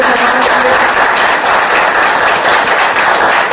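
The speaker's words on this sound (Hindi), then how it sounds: "तो जोरदार तालियां होनी चाहिए" A gathered audience claps loudly and continuously in steady, vigorous applause close at hand, welcoming first-time attendees at a meeting.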